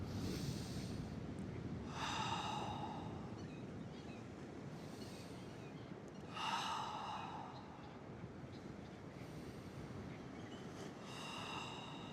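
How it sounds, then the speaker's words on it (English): Three slow, deep breaths during a beach pilates session, each a soft airy inhale and exhale rising and fading over steady surf-like background noise, faint and unhurried. "3 deep inhales and exhales."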